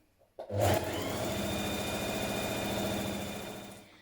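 A sewing machine runs steadily for about three and a half seconds, stitching the inside leg seam of cozy trousers, with a steady mechanical whir that starts abruptly and stops near the end.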